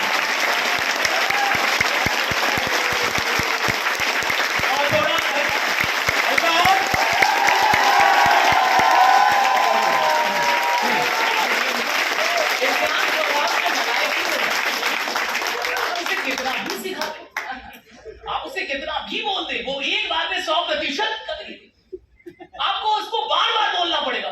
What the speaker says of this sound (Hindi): एक बार जबरदस्त तालियां अपने लिए बजा दीजिए